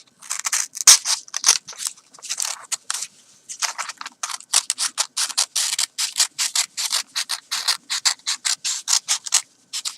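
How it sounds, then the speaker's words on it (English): Scissors cutting away excess material while making a windsock, a long run of crisp, rhythmic snips close up, loud and steady with a brief pause early on and no talking. "I'm going to cut the excess, like I was saying earlier,"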